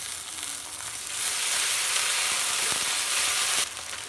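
A ground paste of onion, green chilli and cumin fries in oil, giving a loud steady hiss that swells after the first second and drops back near the end, with faint utensil taps.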